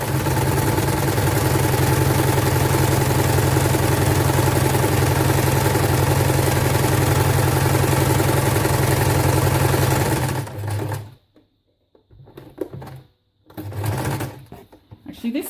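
A cheap Elna 2000 domestic sewing machine runs steadily and loudly for about ten seconds with a continuous motor hum, then stops, leaving quieter handling noises and brief pauses.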